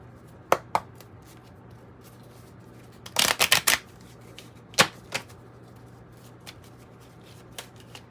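A Kipper card deck handled and shuffled, giving a few sharp taps, then a brief rapid riffle burst and a scattering of single clicks against quiet room hum.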